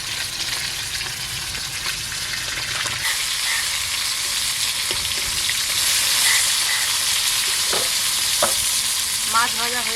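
Fish roe fritters coated in besan and egg batter frying in hot oil in a home kitchen, a loud steady sizzle with occasional clinks of a spatula stirring near the pan.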